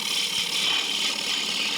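A wood lathe spins dry wood while a bowl gouge makes a pass, giving a steady, loud, hissing scrape that holds evenly throughout with no talking.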